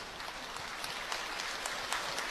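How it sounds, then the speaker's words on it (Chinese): Warm applause from a theatre audience at a Yue opera tribute show, a steady even patter of many hands clapping, heard at moderate distance. "让我们响起热烈掌声"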